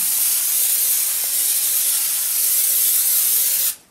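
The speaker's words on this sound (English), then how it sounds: "I'm just going to throw some Pam on here" Pam cooking spray hisses onto a cookie baking pan in one steady, loud, close burst lasting nearly four seconds before stopping abruptly.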